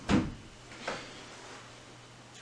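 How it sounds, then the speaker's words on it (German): A wooden drawer slides in under a model railway baseboard, giving a sharp close knock followed by a softer second bump in an otherwise quiet room. "Die Schublade geht rein."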